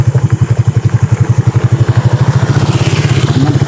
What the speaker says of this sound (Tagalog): may motor Brad